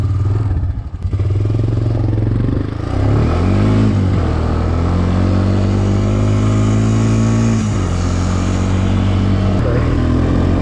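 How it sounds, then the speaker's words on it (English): Honda Recon 250 ATV engine working over rocks on a trail, a loud close single-cylinder drone that rises and holds steady, dips briefly, then climbs again with shifting pitch, clattering through the whole stretch. "I got my little Honda Recon 250 here. We've been doing some little basic rock crawling."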